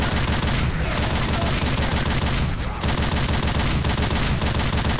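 Rapid, continuous automatic gunfire from an overheating gun mowing down zombies in a prison-yard shooter game, a dense unbroken stream of shots with only brief gaps.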